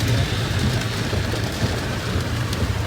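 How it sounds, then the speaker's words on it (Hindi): Heavy monsoon rain pours steadily and densely outdoors as a continuous loud hiss with a low rumbling undertone, with no voices. "और ये देखो कितनी मस्त बारिश हो रही है"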